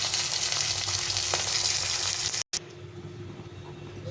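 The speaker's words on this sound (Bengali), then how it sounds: "আমি সবগুলো একটু ভেজে নিলাম" Fish pieces, singi catfish, fry in hot oil, a steady dense sizzle that cuts out for an instant and then resumes, somewhat quieter and alone.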